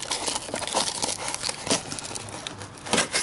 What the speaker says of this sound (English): Let me just rip off this cardboard.